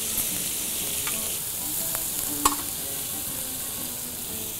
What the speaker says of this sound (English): We're gonna go ahead and saute those in that rendered lamb fat and get some great flavor.